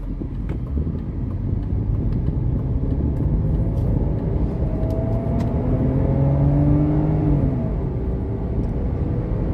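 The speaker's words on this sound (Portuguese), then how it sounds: "É só colocar o nosso câmbio no S e fazer o nosso teste de aceleração." A BMW 528i E39 with its automatic gearbox shifted into sport mode accelerates hard on a hilly road, heard from inside as a steady engine drone that rises in pitch, mixed with wind noise and no talking.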